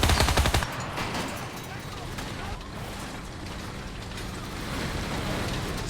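Rapid bursts from a Beretta M-38 submachine gun in a World War-era battle video game crackle loudly at the start, then fade into a dense wash of distant battlefield noise and scattered gunfire.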